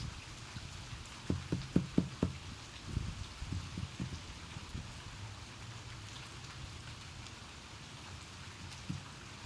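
Mixed rain and snow falling steadily outdoors, a soft continuous patter with a short cluster of louder drops and knocks near the start, then a low even wash until the end.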